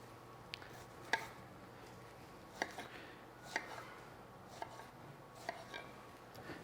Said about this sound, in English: fresh strawberries that I'm just going to cut into quarters or maybe even sixths